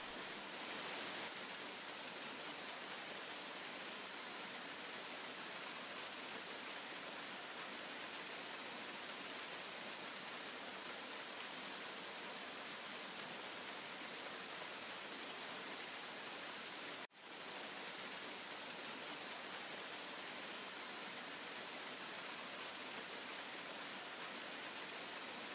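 A waterfall in Phang Nga, Thailand, pours as a steady, dense hiss of falling water, loud and unchanging for the whole stretch apart from one brief cut, with no voices.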